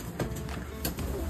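Tippler pigeons cooing inside a loft, a few soft low coos close by over a second or so, with light rustling and faint background noise.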